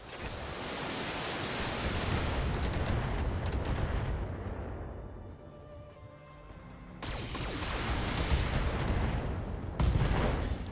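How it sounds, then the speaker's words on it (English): Heavy mech weapons fire and an ammunition explosion in the BattleTech video game, a dense roaring blast that swells and fades, drops to a quieter rumble, then returns with fresh loud booms. "Ooh, an ammo explosion happened in there too."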